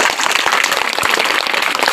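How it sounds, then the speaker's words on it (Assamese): Audience applause at a quiz programme, a dense, loud burst of many hands clapping continuously throughout. "মই বিচাৰোঁ আমাৰ ফালৰ পৰা ডাঙৰ হাত চাপৰি এগত হ'ব লাগে"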